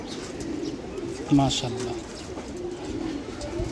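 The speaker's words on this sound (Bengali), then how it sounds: "ওয়ালিদ ভাইয়ের কবুতরটা একটু দেখায়" Pet pigeons in a home loft coo in a short burst near the middle, with a voice speaking briefly over the birds and soft ambient noise throughout.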